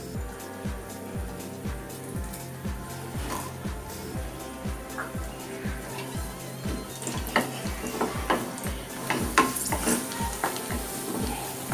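Cashews and raisins frying in ghee, a low bubbling sizzle under a rapid, regular clatter of a spoon stirring against the pan, growing a little busier toward the end.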